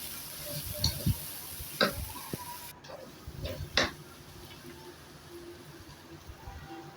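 A spoon stirs onions with ginger and garlic paste in a cooking pan, giving faint scraping and a few clinks over a soft sizzle. It is quiet and close, and no one speaks.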